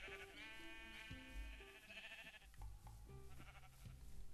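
Sheep bleating in the Minecraft video game, several repeated game bleats in quick succession, fairly close and clear with no talk over them.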